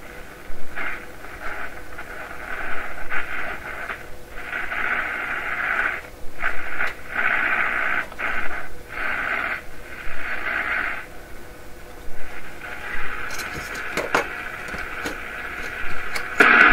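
A General Electric C600 AM radio with a hum fault and an added antenna plays broadband static and mid-range sound in repeated bursts separated by short gaps, with crackling interference toward the end and no voices.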